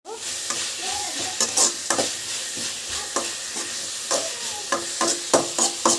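Dried fish sizzles in a hot pan for a curry, with a constant frying hiss broken by frequent irregular scrapes and clacks as it is stirred close by.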